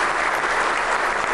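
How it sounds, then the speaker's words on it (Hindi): A studio audience at a Pakistani TV news talk show breaks into dense, sustained applause, steady and loud throughout with no gaps and no voices. "तालियां बजाइए, अपने लिए।"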